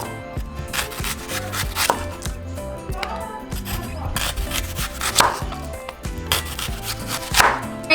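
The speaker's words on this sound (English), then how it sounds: "So now we're just going to slice it down." Slow-roasted cochinita pibil pork is sliced on a board with a knife, giving repeated close, loud chopping knocks and rubbing scrapes throughout, with no talking.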